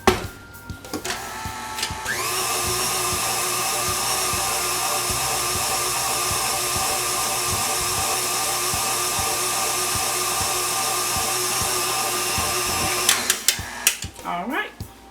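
An electric mixer gives pound cake batter one last mix in a bowl, a steady loud motor whir with a faint rattling pulse running for about eleven seconds before it cuts off, with brief clatter at the start and end.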